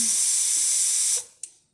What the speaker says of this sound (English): the steam function.